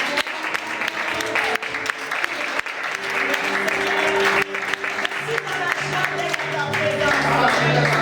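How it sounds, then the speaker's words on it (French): A church congregation applauds loudly and steadily, dense clapping with voices and a held sung or musical tone running underneath. "Nous allons acclamer très fort le Seigneur."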